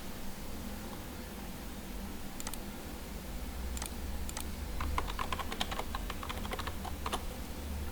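Keys clack on a computer keyboard as a device password is entered while configuring Ubiquiti LTU wireless equipment, a scattered run of light taps and short bursts over a steady low hum, fairly close.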